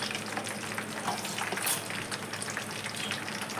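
Hibiscus leaves frying in a hot pan give a steady, close sizzle and crackle, with faint stirring scrapes and no talking.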